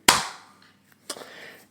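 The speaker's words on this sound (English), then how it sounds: "Alright, clap on 3." Hosts clap together on a count of three: one sharp, loud clap burst, then a second smaller cluster of claps about a second later, with no talking.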